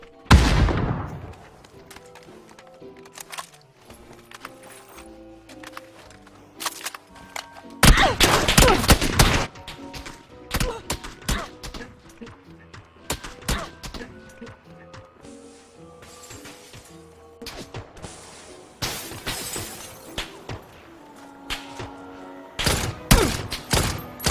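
Video-game gunfire crackles in scattered bursts and single loud shots, some close and sharp and others fainter and farther off, spread over a long firefight with brief quiet gaps.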